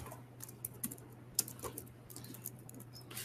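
Quiet keystrokes on a computer keyboard, a loose run of light, uneven taps entering a search query, with a few sharper clicks and no voices.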